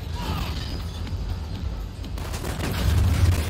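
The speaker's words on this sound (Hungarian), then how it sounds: "Lehet fent lövöldöznek." Gunfire in the video game Cyberpunk 2077 rattles as a muffled, distant fusillade of rapid bursts over a rumbling background, growing louder and heavier toward the end.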